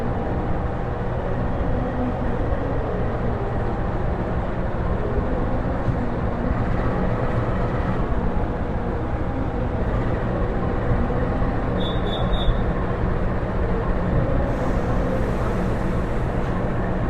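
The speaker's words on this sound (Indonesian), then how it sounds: "sebentar lagi kita bakal lihat proses pemasangan lokomotif dengan rangkaian dari kereta api Malabar" Steady rumble of a train standing at a station as a locomotive is coupled to the passenger carriages of the Malabar service between Malang and Bandung under a shunting crew's guidance, a continuous low drone with a brief higher tone midway.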